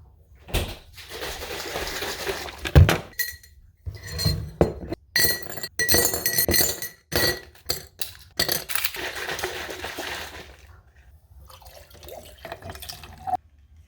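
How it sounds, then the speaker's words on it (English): Green juice being poured into a glass, with clinking glass and trickling, dripping liquid in a series of close, bright bursts, no talking. "I just poured myself a glass of green juice."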